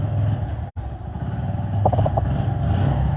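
A Bajaj Platina motorcycle engine idles steadily close by, a low continuous rumble with a brief dropout and a few light clatters.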